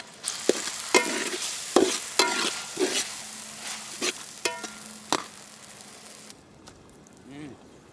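Chopped tomato and green chilli sizzling in a pan outdoors in a village setting, with repeated stirring scrapes and a bright hiss that fades toward the end, a low hum and a brief voice near the close.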